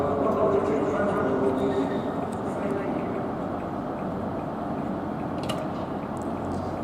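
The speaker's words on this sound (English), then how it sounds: "There goes the class 90. Class 90, number 20, departs London King's Cross Station for Newark Northgate." A Class 90 electric locomotive departs London King's Cross station, giving a steady, loud rumble and hum that fills the whole clip with only slight variation and no clear pauses.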